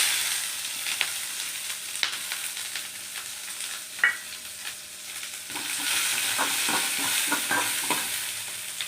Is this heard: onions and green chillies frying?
yes